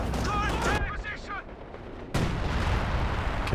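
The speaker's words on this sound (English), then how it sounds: "going for a barrage into the heavy mortar zone perhaps" Artillery barrage in the Company of Heroes 2 strategy game aimed at a heavy mortar position: loud booming gunfire bursts open the clip, drop to a rumbling lull, then a second heavy wave of blasts rolls in and sustains to the end.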